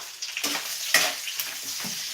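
Garlic frying in hot oil in a pan while being stirred, a steady close sizzle broken by scraping, swishing strokes of the spatula at irregular intervals, with no talk.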